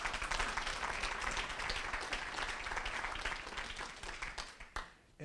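Applause from an audience at an annual community meeting, a steady field of clapping that tapers slightly toward the end and then picks up again briefly.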